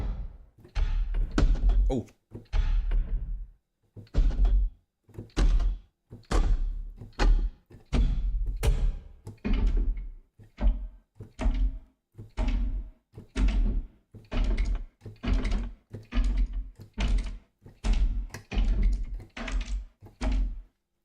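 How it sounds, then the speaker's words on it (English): Booming wooden machine sounds from a sampled sound-design library, about twenty heavy, resonant knocks and thuds struck one after another in a fairly steady rhythm, loud and close, with a brief voice at one point. "maybe mechanical sounds. Booming wooden machine."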